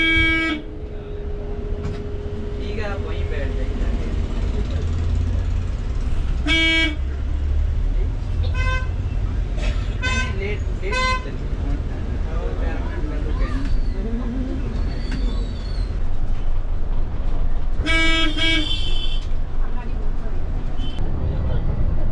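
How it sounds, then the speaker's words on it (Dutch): A bus driver on the road from Agra to Jaipur honks the horn again and again, short loud toots and longer blasts recurring every few seconds over road and engine rumble while people talk. "Hij is de hele tijd aan het toeteren."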